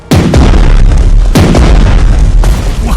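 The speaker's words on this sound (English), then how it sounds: "Finally, we get to use our guns." Warship guns firing in the WWII naval strategy game Strategic Mind: The Pacific: three heavy, very loud booms roughly a second apart, each followed by a long rumbling roar that runs into the next.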